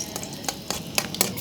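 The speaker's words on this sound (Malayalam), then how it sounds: "ചട്ടി ചൂടായാലും അതിലേക്ക് ആദ്യം അണ്ടിപ്പരിപ്പ് ഇടാം കേട്ടോ." Washed cashew nuts fry in ghee in a pan, a soft steady sizzle broken by several sharp scraping strokes of stirring at regular intervals, close and fairly quiet.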